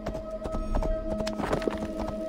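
A horse gallops in Assassin's Creed Valhalla, with steady, rhythmic clip-clop hoofbeats close and loud over a dense, continuous game soundscape with a sustained tonal drone.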